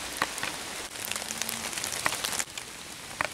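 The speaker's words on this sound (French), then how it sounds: "Je vais me mettre sous un arbre, là, parce qu'il pleut." Rain falls steadily through a forest on a mushroom-hunting outing, a dense pattering hiss with scattered louder drops striking leaves nearby, no voices.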